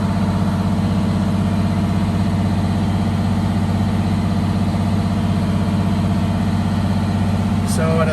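A Detroit Diesel blower-driven engine holding steady at 1000 RPM, a continuous loud low drone with an even pulsing hum and mechanical whine, close by, unbroken for the full length, with a brief faint click near the end.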